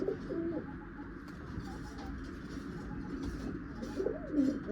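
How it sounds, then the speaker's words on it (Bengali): Male pigeons of a Malwai breed cooing close by, low throaty coos repeating in short bursts over a steady room hum, growing louder near the end. "এটা হচ্ছে নোয়ার পায়রা,"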